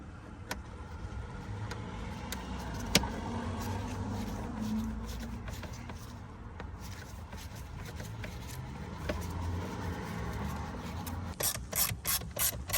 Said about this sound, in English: So I'm going to reuse my ratchet because it's so much easier that way.